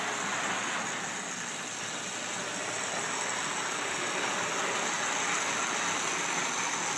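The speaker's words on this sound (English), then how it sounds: "this is actually an engine working in the yard" Engine working in a yard, a steady broadband rumble and buzz that holds at an even loudness throughout, with no talk over it.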